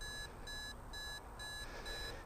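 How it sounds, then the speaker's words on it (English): A quadcopter's locator beeper repeats a high electronic beep in a steady rhythm, about two pulses per second, over a low rumbling background hiss. "And do you hear that noise, that beeping noise?"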